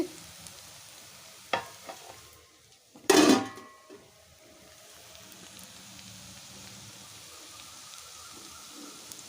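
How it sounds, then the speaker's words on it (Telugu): An onion and egg curry is stirred in a pan with a quiet, steady sizzle and a few scraping stirs, including one louder clatter of the utensil against the pan, then soft frying continues alone. "మంచిగా అయితే ఇలా మిక్స్ చేసుకోవాలి"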